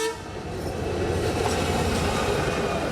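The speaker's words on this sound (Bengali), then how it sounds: "তীব্র গতিতে ছুটে চলা ট্রেন আর সড়ক পথের বাহন মিলেছে একই মোহনায়।" A train speeds through a road level crossing, a loud continuous rumble of rolling wagons building after a brief lull and holding steady to the end, with no voices.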